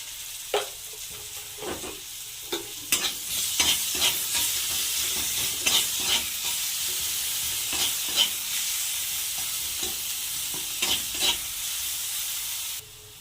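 Chopped onions with a spoonful of salt fry in hot oil, giving a steady sizzle broken by repeated scraping stirs of a spoon across the pan.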